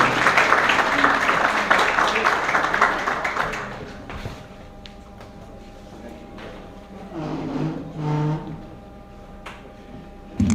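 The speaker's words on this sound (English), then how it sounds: "Give him a big round of applause." Audience applause at a Kashmiri American Alliance New Year celebration and opening ceremony, honoring an assemblyman; a dense burst of clapping fills the first few seconds, then fades to quieter room noise with a hum and scattered sounds.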